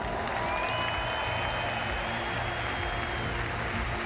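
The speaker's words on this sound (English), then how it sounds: "Marleen van Ganswinkel receiving the warm applause of this capacity crowd at the Stade de France." A capacity crowd at the Stade de France applauds a silver medalist at a Paralympic athletics medal ceremony, giving steady, dense, distant clapping with a faint cheer that fills the whole stretch.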